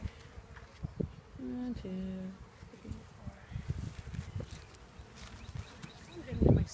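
Honeybees buzzing around a hive on a farm in Manoa, a steady low drone running under a nearby voice that counts aloud, with a brief louder rustle near the end.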